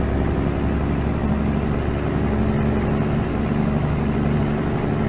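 A truck engine running under load while climbing, a loud, steady low drone with a constant hum and no speech.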